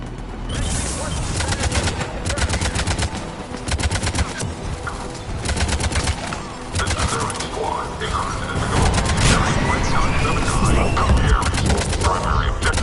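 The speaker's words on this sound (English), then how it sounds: "Taking enemy fire." Enemy gunfire in the Mass Effect 3 video game, rapid bursts of automatic fire crackling close and loud in repeated volleys, mixed with game effects and intermittent voices throughout.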